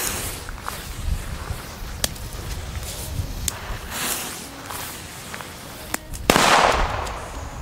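Small homemade firecrackers, each about 3.6 grams, go off outdoors at a New Year's Eve gathering: scattered sharp cracks at irregular intervals over a noisy background of rustling and footsteps, ending in a louder, longer burst.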